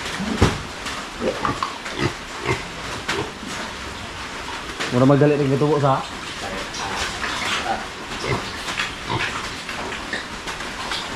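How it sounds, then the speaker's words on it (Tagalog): Pigs grunt and squeal around a farm pen in the Philippines while a person talks over them in Filipino, with one louder, drawn-out squeal standing out midway. "Yan po yung mga baboy natin dito."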